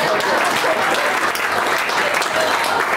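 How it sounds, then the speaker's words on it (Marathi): Steady audience applause at a book lovers' gathering's poetry session, dense continuous clapping filling the room without a break. "एकदा टाळ्या वाजवून कॉम्प्लिमेंट द्या."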